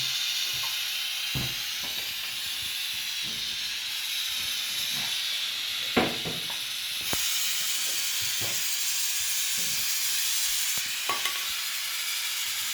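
A Benzomatic gas torch burns with a loud, steady roaring hiss while heating red-hot metal for brazing wire, close up, with a few scattered clicks and knocks over the continuous flame.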